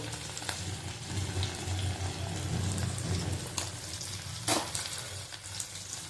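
Tomato, turmeric and salt sizzle steadily in a pan for a tengra fish curry, a continuous close frying hiss with a few scraping stirs and a sharper clatter near the end, no voices.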